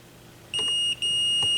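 Multimeter continuity beep while probing the red lead of a replacement RCA cable on a Technics SL-B202 turntable tone arm: a single steady high tone starting partway in, with one brief dropout before it resumes, alone without talk.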